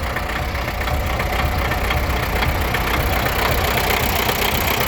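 A D-240 diesel tractor engine runs at a steady idle nearby, a continuous loud rumble with a faint knock and no talk over it.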